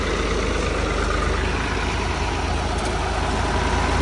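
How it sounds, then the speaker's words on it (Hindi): An old New Holland tractor, once sunk in water, idles just after starting, its diesel engine giving a steady, loud, close rumble that drones on without a break. "जरा सा इंजन घुमा और चालू हो गया।"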